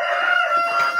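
A rooster among Embrapa 051 laying hens crows loudly and close by in one sustained, tonal call, with no talking.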